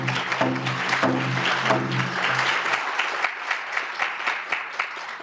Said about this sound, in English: Let's give them all a nice round of applause for being here today